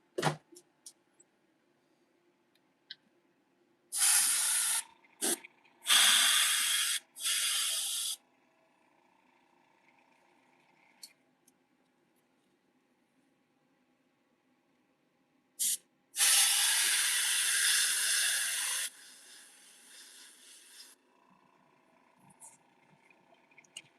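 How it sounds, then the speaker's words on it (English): An airbrush sprays paint onto fishing lures in short hissing bursts, then one longer sustained spray, with quiet gaps between them. "let's go ahead and spray this"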